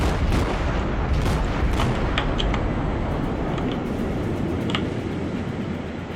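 Naval artillery in World of Warships, with a warship's guns firing in an exchange at sea: a dense, continuous rumble carrying repeated sharp cannon reports, heaviest at the start and thinning out toward the end.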